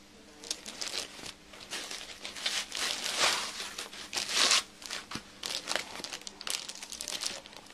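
Plastic wrapping from an HP Pavilion 15-r030wm laptop box crinkles and rustles steadily up close for several seconds, with sharper crackling bursts mixed into the continuous handling noise.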